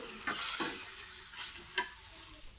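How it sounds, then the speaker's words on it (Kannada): Ghee-brushed chapati frying on a hot pan, a faint steady sizzle with soft scraping stirs and a louder hiss near the start, no voices. "ಹಾಗಾಗಿ ನಾನು ತುಪ್ಪ ಹಾಕಿ ಬೇಯಿಸ್ತಾ ಇದ್ದೇನೆ"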